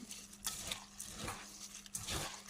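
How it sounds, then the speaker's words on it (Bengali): Food being lightly mixed by hand with soybean oil in a bowl, giving faint, soft squelching and stirring strokes in a few short bursts. "সয়াবিন তেলটা দেওয়ার পরে আমি হাত দিয়ে এভাবে হালকা করে একটু মাখিয়ে দিব।"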